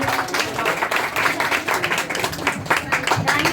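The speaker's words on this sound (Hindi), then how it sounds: "जोरदार तालियां पायल के लिए।" Loud, dense applause from a crowd at an Independence Day celebration, welcoming a performer named Payal to the stage; steady, vigorous clapping with some voices mixed in.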